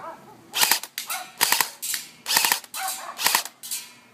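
Classic Army Bushmaster Predator M16 airsoft rifle firing outdoors at a metal beer keg, about eight sharp snapping shots in a steady rhythm, each paired with a metallic clank from the keg, with no talking.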